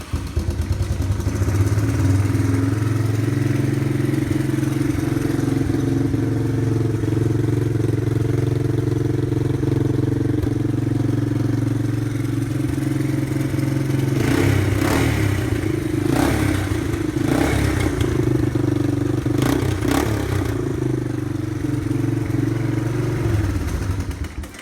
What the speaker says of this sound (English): First, let's hear the stock muffler.